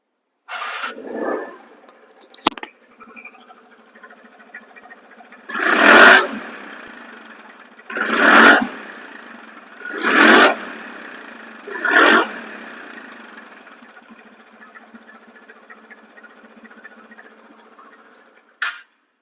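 A second-hand, gearless TVS Ntorq 125cc scooter idles close by, and its engine is revved in about four sharp throttle bursts separated by quieter idling stretches.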